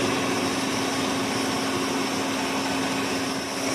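A Lucas model 41 machine runs with a lead screw fitted, giving a steady, even mechanical hum with a constant tone. The hum stays at the same level throughout, with no voices over it.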